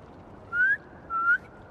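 Two rising whistles from a character calling to pigeons in the Spider-Man 2 video game, each about a quarter second long with a short pause between, clear and close over a faint low background.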